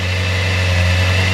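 A carbureted Suzuki GSX-R 750 motorcycle engine idles steadily with a deep, even hum, loud and close, with no voices over it.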